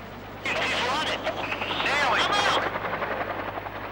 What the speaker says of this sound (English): Included in the Red Force are Mi-17 Hiplight and Mi-8 attack helicopters.